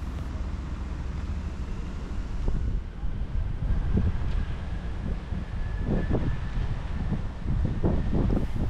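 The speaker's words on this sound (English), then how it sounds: "watched as the wind played with the giant Koinobori decoration above the lake" Steady wind blows by a lake in Chiba, Japan, a continuous low rumble buffeting the microphone with faint scattered background sounds throughout.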